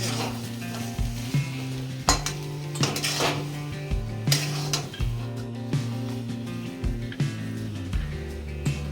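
Salt being stirred into potato vada filling in a pan, with repeated metallic scrapes and clinks of a spoon on the pan over a steady sizzle, close and fairly loud.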